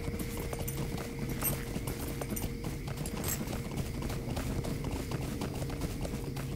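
Horse hooves clip-clop steadily at a riding pace in The Lord of the Rings Online, a continuous rhythmic patter that runs through the whole stretch over a droning game ambience.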